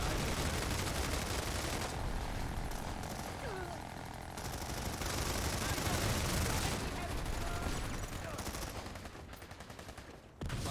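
Rapid gunfire and a heavy assault's sustained chain gun in an Overwatch competitive match, a dense continuous rattle of shots filling the whole stretch, loud and close, with some faint voice underneath.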